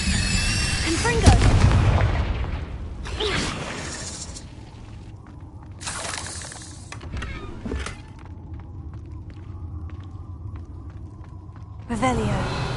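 Confringo, an explosive spell in Hogwarts Legacy, set off in a cave: several loud, booming blasts with rumbling tails, scattered across the stretch amid low ambient rumble.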